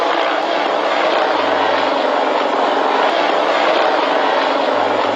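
A helicopter flies overhead above houses in Tivoli Gardens, its rotor and engine roar loud and unbroken, a constant wash of noise.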